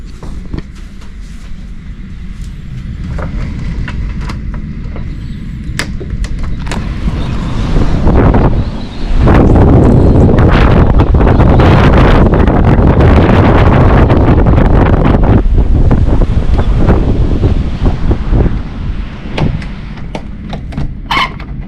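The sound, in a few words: storm wind blowing on a Norwegian coast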